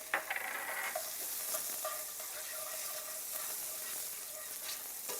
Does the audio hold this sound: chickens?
no